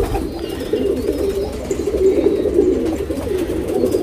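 A tournament pigeon coos steadily and close by, a continuous low throaty burbling that rolls on without pause and with no other voices.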